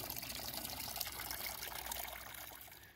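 Water trickles and pours softly and steadily from a woodland spring, a faint, continuous babble with no voices.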